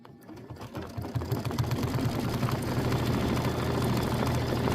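An embroidery machine stitching a quilt block for a seasonal wall-hanging project, its motor humming up from a start into a fast, steady rapid needle rhythm, close and continuous, with no talking.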